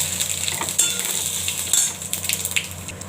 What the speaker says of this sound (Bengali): ফোড়ন হচ্ছে লঙ্কা, শুকনো লঙ্কা আর তেজপাতা, মৌরি আর জিরা ফোড়ন দিলাম